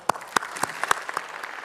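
Sparse, scattered hand claps from a graduation ceremony audience at JCU Brisbane, a handful of distinct sharp claps spread unevenly over a quiet hall background.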